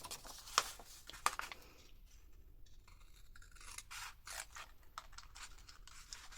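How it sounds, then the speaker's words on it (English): Scissors snip through paper while a coin envelope is being cut, a couple of sharp close cuts early on followed by softer rustling and trimming of the bottom pieces. "you take your scissors, snip, snip, and you take off these bottom pieces"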